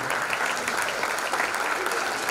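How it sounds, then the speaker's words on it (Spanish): Loud, dense audience applause at a fifth-anniversary breakdance show, continuous and steady from start to finish, with a crowd murmuring beneath the clapping. "Quiero que la reciban con un muy, muy fuerte aplauso"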